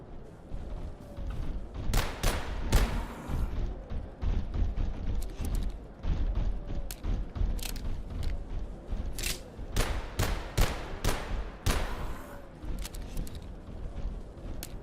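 Gunfire in the video game Abiotic Factor: repeated loud, sharp shots in irregular bursts over about fifteen seconds, close and punchy with mechanical clatter between volleys.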